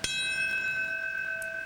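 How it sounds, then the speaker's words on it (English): A single bell strikes to mark a moment of silence for the North Tower collapse at a 9/11 twentieth-anniversary ceremony in New York, one clear struck tone ringing on with a long, steady sustained hum. "that is the bell to mark the moment of silence that in turn marks the collapse of the North Tower"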